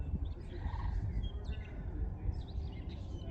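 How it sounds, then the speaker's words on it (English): Small birds chirp and twitter in short, scattered bursts over a low rumbling background at Valle de Oro National Wildlife Refuge wetland in Albuquerque, calls coming from several directions at moderate distance. "There's birds flying all over."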